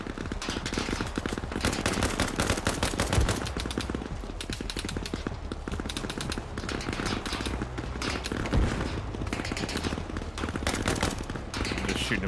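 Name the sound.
gunfire in Arma Reforger video game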